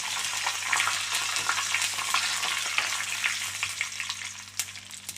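Curry leaves fry in hot oil with a continuous crackling sizzle, close and fairly quiet, under a steady low hum, with no speech.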